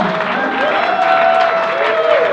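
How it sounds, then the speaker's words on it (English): Loud, steady applause from a wedding crowd at The Liberty House, Jersey City, NJ, continuous clapping with a sustained tone ringing over it. "big round of applause, folks, for our Brian and Dad."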